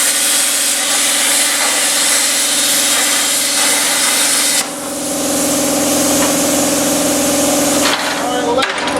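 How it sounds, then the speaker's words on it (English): An air compressor runs steadily up close in a workshop during a Ford C-notch shoebox job, a loud continuous broadband roar with a steady hum. It changes pitch partway through and cuts off near the end. "And there's the compressor."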